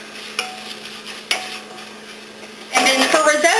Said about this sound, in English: So stir all that up really good.